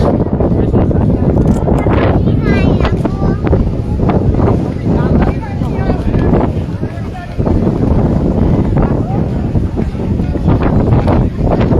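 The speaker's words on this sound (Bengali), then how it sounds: "বাতাস" Strong wind at a zero point buffets the microphone in loud, continuous roaring gusts, with people talking faintly underneath.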